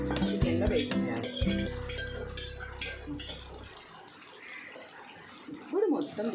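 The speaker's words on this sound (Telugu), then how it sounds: "ఇప్పుడు మొత్తం తిప్పాలి గైస్." A metal spoon stirs gongura leaves into chicken in a pot over a low flame, giving a quick run of close metallic clinks and scrapes against the pot, then quieter shuffling and a brief late clatter.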